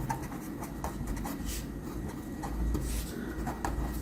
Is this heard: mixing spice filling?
no